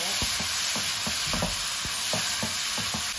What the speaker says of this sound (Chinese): 然后下入切好的豆角和芹菜，还有豆芽、香菇，再用铲子给它翻炒均匀。